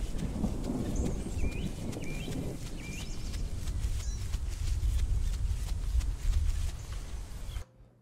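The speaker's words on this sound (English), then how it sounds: "Whoa! I heard thunder." A deep, continuous rumble of thunder rolls through a storm in the dinosaur survival game The Isle. It holds steady for most of the stretch while high bird chirps sound over it, then cuts off abruptly near the end.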